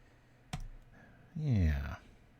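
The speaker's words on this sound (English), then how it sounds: "Sorry, I'm clicking so loud." Loud computer mouse clicks during a TRON Cascade Pauper card game, with one sharp click near the start, then a voice speaking alone.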